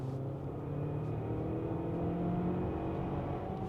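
A Hyundai Palisade Hybrid accelerates from about 70 to 100 km/h, heard as a steady, moderately quiet engine and road drone that swells slightly over a few seconds.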